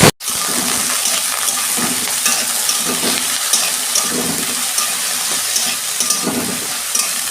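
Eggplant drops into hot oil in a kadai with a dried chilli, bursting into a loud, continuous sizzle right up close that holds steady throughout.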